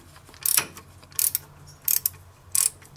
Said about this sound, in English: An 11/16 wrench is going to tighten all these hose fittings now.